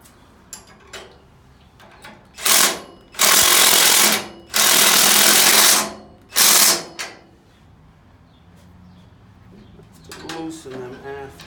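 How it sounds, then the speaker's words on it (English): Loud bursts from an impact wrench loosening bolts, four long rattling runs of about a second each between roughly 2.5 and 7 seconds, with quieter clatter and faint talk before and after. "I mean the impact wrench"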